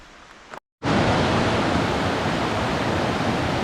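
A river in Baker Snoqualmie National Forest rushes steadily as a loud, broadband wash of flowing water. It continues unbroken after a brief cut near the start, with no voices over it.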